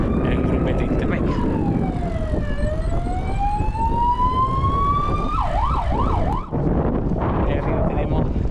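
Ambulance siren following a Gran Fondo cycling race in the Alpujarra, a loud close wail that sweeps up and down, then switches briefly to a fast yelp, over heavy wind noise.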